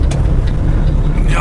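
Constant plastic rattle from a steering column inside the cab of a truck fitted with a rebuilt Cummins X15 engine, buzzing steadily and close under loud road and engine noise.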